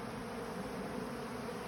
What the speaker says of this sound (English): all the bees are congregating here together from different hives